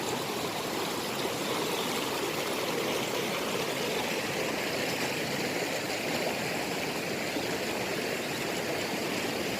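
A clear stream rushing over white rocks beneath a motorway bridge at Biaschina in Switzerland, a dense, even roar of flowing water holding steady throughout with no voices.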